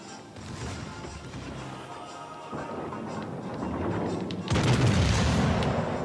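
Warship guns firing high-explosive shells in World of Warships: Legends, a rolling series of booming gunfire and crashes that builds in loudness, ending in a heavy, louder volley near the end.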